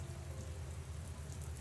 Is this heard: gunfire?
no